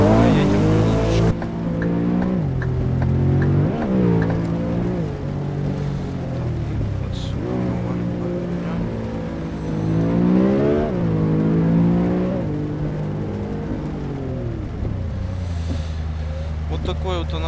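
Nissan 370Z Nismo engine in the driving game Euro Truck Simulator 2, revving up and down through several gear changes with rising and falling pitch, loud and continuous, settling to a lower steady tone near the end.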